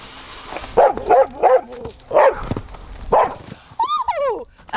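A dog gives a series of short barks and yips, then a rising, wavering whimper near the end, close and fairly loud in a wine country setting.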